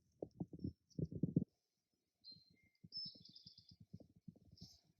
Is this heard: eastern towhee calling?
yes